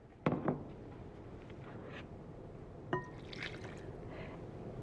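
Water is poured into apple cake batter in a kitchen, short liquid splashes and trickles heard faintly alongside a couple of light clinks of a container.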